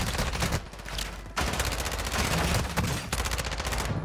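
Shotgun fire in a video game, loud heavy blasts repeating steadily, each booming report followed closely by the next across the whole stretch, with no talk.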